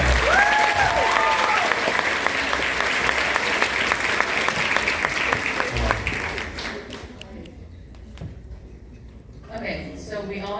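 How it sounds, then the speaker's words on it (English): A live tour audience at a DAZ Games show in the USA bursts into a loud, dense round of applause with cheering, fading toward the end as a voice starts up. "Give a round of applause."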